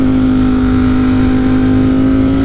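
A tuned motorcycle accelerates hard in third gear on flat ground at about 60, its engine holding a loud, steady, close drone with a strong constant pitch and no break for the full stretch.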